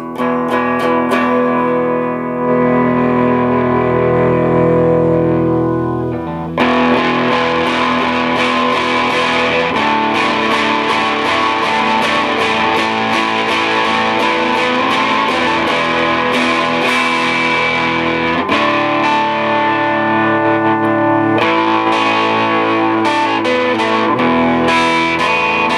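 Distorted electric guitar from a 1956 Les Paul Junior through a 1964 Vox AC-4 amplifier plays sustained overdriven chords and notes, loud and close, with a brief pause near the start and no talking.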